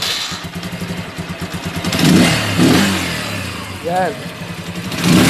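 Small motorcycle engine such as a TMX155, Euro 150, Rusi 150 or Skygo 125 running during carburetor tuning, a close steady putter rising into revs, with someone talking over it.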